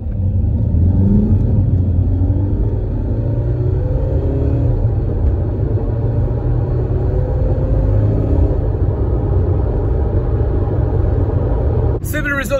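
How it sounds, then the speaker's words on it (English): A diesel car's engine drones loudly and steadily with a low rumble, gradually working harder as it accelerates from 20 km/h in second gear, while a person talks over the noise. "starting from second gear in the diesel at 20 kilometers an hour"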